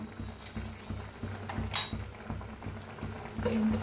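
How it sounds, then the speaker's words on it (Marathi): Raw mango murabba simmers in a pot with soft, irregular bubbling and popping, plus a brief clink of a utensil partway through; quiet and close. "छान असं शिजायला लागलेलं आहे।"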